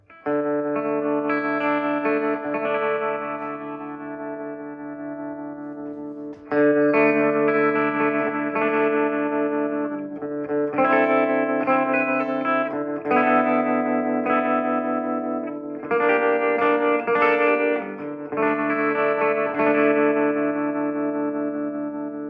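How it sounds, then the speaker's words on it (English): Electric guitar chords ring through a Fender Tone Master Deluxe Reverb amp with tremolo switched on, the volume pulsing over sustained strums in several phrases with brief pauses, close and fairly loud with reverb and no voices. "Kick on a little tremolo, see what happens here."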